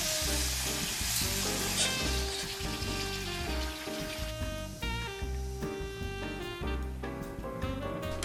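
Sweet potato crisps sizzle and bubble in hot oil at a steady level, with background music playing over the frying throughout.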